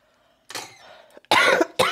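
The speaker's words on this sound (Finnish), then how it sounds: "Ja yskä." A person ill with a virus coughs several times, loud and close, in harsh separate bursts after a quieter breathy start, with no talking.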